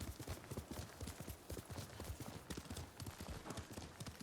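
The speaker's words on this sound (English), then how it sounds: "you will start back mounted on your horse, so you can immediately start riding into this direction here" Horse hooves clopping in a quick, steady galloping rhythm as a rider is mounted in the samurai video game Ghost of Tsushima, close and fairly faint, with no voices.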